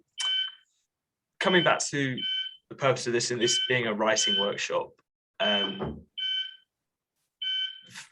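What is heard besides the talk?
intermittent fire alarm beeping in the background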